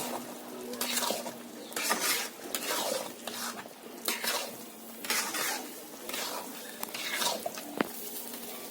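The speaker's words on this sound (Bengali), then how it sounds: "এখন নারকেলের দুধটা আমি দিয়ে দেবো। আমি ভালো করে মিশিয়ে নেব।" A spoon stirs coconut milk into a prawn malai curry in a pan, making soft, repeated wet swishes and squelches at a close, quiet level with brief scraping taps.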